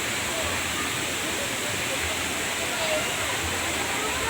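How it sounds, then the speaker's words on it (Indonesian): The Banting Murung waterfall produces a steady, dense roar of falling water that stays constant and close throughout, with no breaks or changes in level. "Kita mau lihat ujung dari air terjun ini ya guys."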